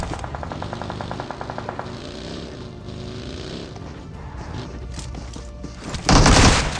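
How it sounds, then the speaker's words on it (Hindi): Shotgun fire in the mobile battle royale game BGMI, with a run of rapid gunshot bursts followed by one loud close blast near the end over in-game background sound. "मेरे पास में शॉटगन है एंड इस बंदे को तो यहाँ पर मैं फिनिश कर देता हूँ"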